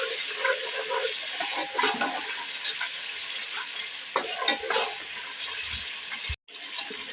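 Potatoes and whole spices fry with ginger-garlic paste for chicken biryani, giving a steady loud sizzle and crackle with scraping stir strokes throughout and a brief dropout near the end.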